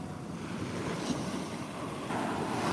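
Ocean surf rolls in a continuous loud wash of breaking waves mixed with wind buffeting the microphone, with no pauses and a slight swell toward the end.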